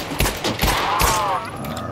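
Rapid gunfire rings out in the VR shooter Pavlov VR, several loud close shots in quick succession with a brief voice underneath and echoing tails between bursts.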